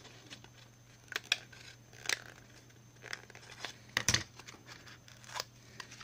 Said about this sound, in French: Là, je viens couper ce qui dépasse pour le papier.